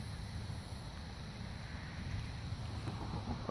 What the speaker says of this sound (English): It's really freaking windy, but oh well.